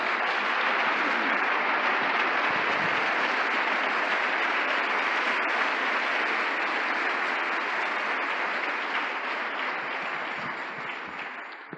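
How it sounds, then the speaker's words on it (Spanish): A church congregation applauds for the Lord, dense sustained clapping filling the room loudly before tapering off at the end. "Un aplauso al Señor, hermano."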